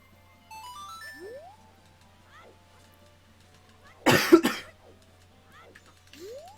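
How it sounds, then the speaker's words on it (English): A single loud, harsh cough bursts out over a quiet background of electronic game music and chimes, standing out sharply for about half a second. "which is why I have such a bad cough"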